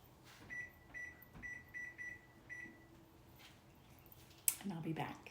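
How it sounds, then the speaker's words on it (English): A kitchen timer beeps in short electronic pips as it is set for thirty minutes for a carrot cake in the oven, about six quick tones followed by a clatter and rustling, with a voice talking faintly over it. "Set my timer for 30 minutes."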